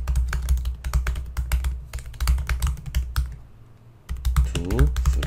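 Steady, fast typing on a computer keyboard, close and clear, with dense clicking keystrokes, a brief pause near the middle, then typing resumes.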